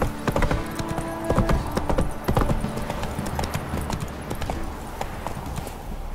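The horse Roach gallops in the video game Witcher 3 in Velen, with rapid, loud, close hoofbeats in an uneven rhythm that ease slightly toward the end over a low ambient rumble.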